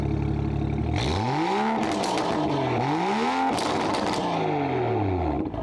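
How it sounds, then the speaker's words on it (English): A BMW F30 335i with a West Coast Euros exhaust, valves open, revs sharply three times in a row, each rise climbing and falling away before settling back to a steady idle, loud and close with no talking. "we currently have the West Coast Euros exhaust on, and let's give it a couple revs with the valves open"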